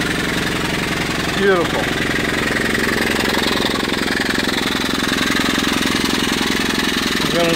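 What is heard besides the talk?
steam engine driving a dynamo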